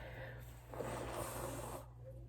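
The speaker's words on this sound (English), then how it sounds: "because I have to blow my nose." A short, breathy nose blow lasting about a second, fairly quiet and close, with a low hum in the background.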